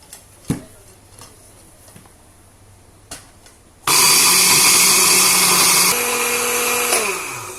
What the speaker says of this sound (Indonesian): kita akan menggunakan blender ini